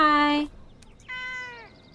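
A cat in the video game Été meows twice, loud and clear: a bright, drawn-out first meow, a short pause, then a softer, falling second meow over faint background ambience.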